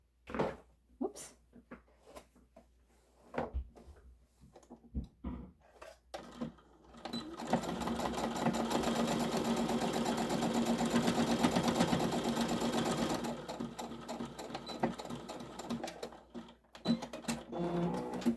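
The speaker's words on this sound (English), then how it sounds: "We're going to sew that the next side." A sewing machine stitches the side seam of a fabric tote bag in one long continuous whirring run of about six seconds, close and loud, framed by handling clicks and rustles before and after.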